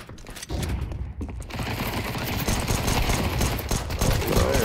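Rapid, dense gunfire fills a Counter-Strike 2 match on the Vertigo map, loud and continuous after a brief lull, with overlapping shots and clattering weapon mechanics.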